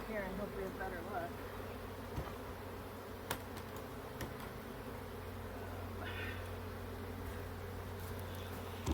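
Honey bees hum in a dense, continuous buzz around a beehive, with scattered clicks and light knocks from handling close by, and no clear talk over the steady drone.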